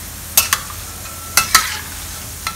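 Pork lard frying in hot oil for pork noodle soup, a low bubbling sizzle broken by several sharp metal scrapes and clacks of a stirring utensil in pairs, close and fairly loud, with no voices.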